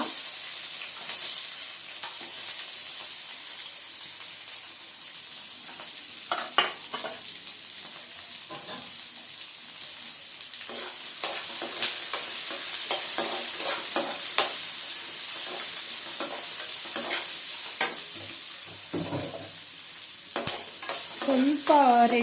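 Onions fry in oil in a pan with a steady high sizzle, while scattered scrapes and clinks of stirring come and go, close up and without talk.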